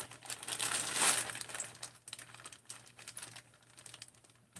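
Metal carburetor bolts clink and rattle as a hand rummages through them, faint close jingles and small clatters, busiest at first and then scattered.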